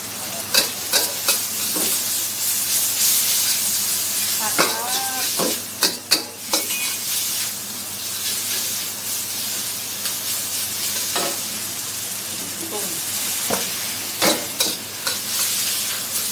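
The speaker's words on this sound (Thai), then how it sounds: "เราก็จะผัด" Noodles stir-fried in a hot pan give a steady loud sizzle, with intermittent scraping and clattering of the utensil against the pan, close up and mostly without speech.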